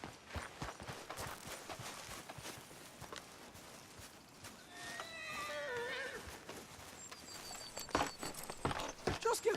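A horse in the Red Dead Redemption 2 video game gives a clear whinny midway, surrounded by irregular hoof clip-clops and footsteps that grow busier toward the end, fairly close with faint game ambience.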